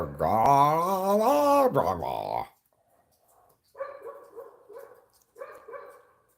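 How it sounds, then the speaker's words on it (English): A dog barks in short clusters after a long stretch of loud human vocalizing, the barks moderately near and spaced in two brief bursts. "That dog needs to shut up."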